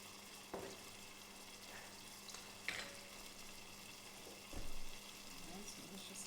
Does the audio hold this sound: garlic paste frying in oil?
yes